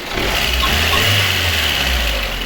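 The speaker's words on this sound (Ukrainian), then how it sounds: "якщо держати обороти, і немає тарахкотіння. Тільки звук двигуна" A VAZ-2113 (Lada Samara) car engine hums steadily at raised, held revs, a smooth continuous drone with no knocking, close by and fairly loud.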